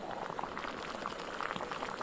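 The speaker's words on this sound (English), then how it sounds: "I'm also letting it boil for a good extra 30 seconds or so because I'm taking the water directly out of the creek" Creek water boils hard in a pot on a gas stove outdoors, a dense, even bubbling and hiss that stays close and unbroken throughout.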